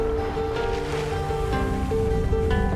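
Sailboat under sail at good speed through waves, with a steady rush of water and wind noise and a constant low hum, close and fairly loud throughout.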